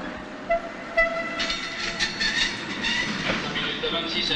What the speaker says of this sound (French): commande l'arrêt de ces wagons qui ont l'air d'aller seuls et ne se trompent jamais